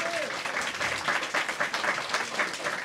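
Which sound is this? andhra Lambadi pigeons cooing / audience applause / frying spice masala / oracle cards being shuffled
audience applause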